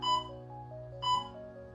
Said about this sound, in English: Here is your 3-second countdown.